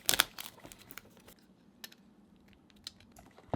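Knife slicing open the cardboard box of a ModRetro Chromatic retro gaming handheld, a burst of close scratchy cuts and tearing at the start, then sparse faint scrapes and crinkles.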